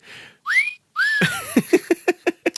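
Human whistling: a couple of rising slides, then a quick run of short, sharp whistled notes in a bouncing rhythm, fairly loud and close.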